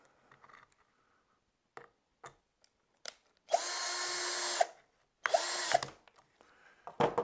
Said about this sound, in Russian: Теперь берем палочку и вкручиваем первый саморез